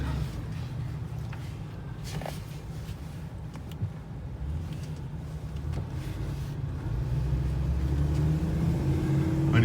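A 2012 Ford F440 tow truck with a V10 engine driving, a steady low engine rumble heard from inside that builds gradually louder toward the end as it picks up speed, without talk.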